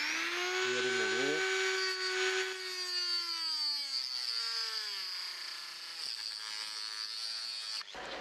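An angle grinder fitted with a blade grinds leftover epoxy resin off a snakewood-handled Opinel knife during restoration, giving a loud, continuous motor whine that sags and wavers in pitch as it bites, then cuts off abruptly near the end.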